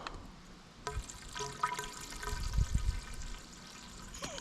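Water splashes and trickles from a leaking 1992 Detroit 8V92 firetruck diesel engine, close irregular splatters and pouring with a few louder gushes and low thumps midway.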